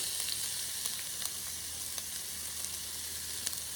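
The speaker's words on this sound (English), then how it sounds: "Saute peppers, onions." Peppers and onions sauté in a pan with a soft, steady sizzle and a few faint stirring clicks, fairly quiet and continuous with no talking.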